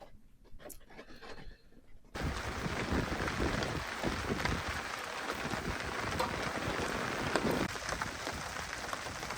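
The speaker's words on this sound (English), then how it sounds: "The rain slacked up a little bit." Rain in the Ozark National Forest patters steadily on a camper, starting abruptly after a quiet moment and then holding as a dense, even hiss of drops at moderate loudness.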